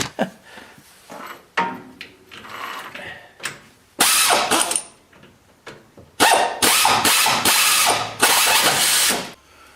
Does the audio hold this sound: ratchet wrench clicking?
yes